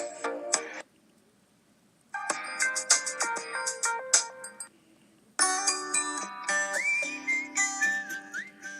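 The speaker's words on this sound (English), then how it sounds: "I think that was my mom's old phone ringtone." FreedomPop phone ringtones play alone as bright, melodic electronic tones in two loud bursts separated by a short silence, the second a sustained, warbling chime-like tune.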